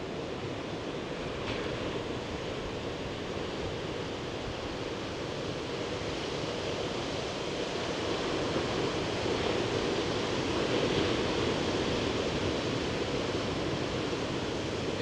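Steady roar of big ocean waves at Nazaré, Portugal, under a red flag, a continuous broad wash of surf with wind across the microphone and no voices.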